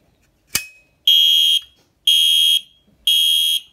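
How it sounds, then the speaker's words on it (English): After a sharp click, a fire alarm horn sounds three loud, evenly spaced electronic blasts. Each lasts about half a second, with silence between them in a quiet room. "let's go pull the fire alarm. The MIZ will sound and the E50 will flash"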